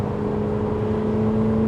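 An Audi R8 with an aftermarket exhaust system idles with a steady, low droning hum and a faint whir, heard close and unbroken for a brief moment with no talk.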